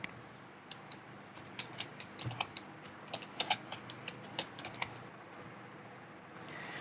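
Someone types a short phrase on a computer keyboard, quiet irregular keystrokes clicking in small bursts against a faint background hum.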